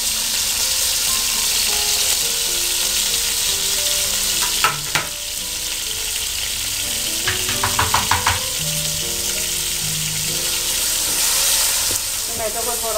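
Tomatoes frying in half a cup of hot oil for Chinese-style chicken fried rice, giving a loud, steady sizzle close up, with a few clinks and scrapes of stirring midway.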